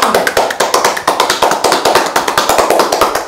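Rapid rhythmic cupping massage tapping on skin, brisk hollow pats repeating steadily for a few seconds, close and fairly loud with no talking.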